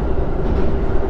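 A commuter train on the Joban Line rolls into a station platform, a steady loud rumble of wheels and carriage noise filling the whole moment, with no voices.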